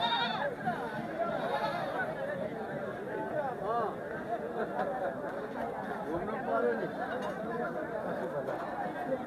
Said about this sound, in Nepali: यहाँ यी सबै बाख्रा बजार चाहिँ शनिश्चरीको बाख्रा बजार